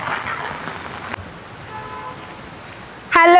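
A park train runs in heavy rain at Malampuzha, Palakkad, under a steady wash of rain hiss, then gives a short, loud tonal toot of its horn near the end.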